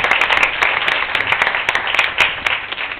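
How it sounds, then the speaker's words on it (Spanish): Audience applauding a storyteller, a short lively round of close, crisp hand claps with individual slaps standing out, heard alone without talk. "Por favor, un fuerte aplauso para Cristian Praga."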